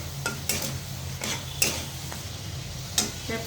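Chopped capsicum tipped into hot oil in a pan and stirred, sizzling steadily with several sharp scraping and clinking strokes of a spoon against the metal, close and without speech.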